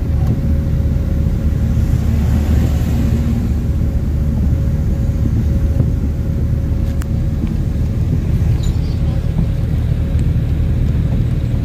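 A learner's car driven at night on a training run, a loud continuous engine and road rumble from inside the vehicle, steady throughout with no talk.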